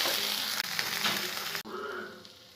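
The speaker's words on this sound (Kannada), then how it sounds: "ಈಗ ಬೆಂಡೆಕಾಯಿ ಹಾಕ್ತಾಯಿದ್ದೀನಿ. ಓಕೆ, ಈಗ ಚೆನ್ನಾಗಿ ಫ್ರೈ ಮಾಡ್ಕೊಳ್ಳೋಣ." Okra (bhendi) fries in oil in a pan with a steady, close hiss and crackle, broken by two brief dips as it is stirred, with no talk.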